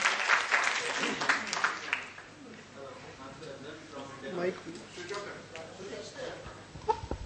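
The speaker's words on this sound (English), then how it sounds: "So big round of applause for them." Audience clapping at a corporate quiz, a brief burst of applause at the start that fades into quieter room noise and murmured talk.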